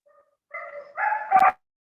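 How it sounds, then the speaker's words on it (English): Dogs bark close by in a short burst of a few yips and barks, building to one loud final bark, with near silence before and after. "Sorry, there are dogs around making a lot of noise."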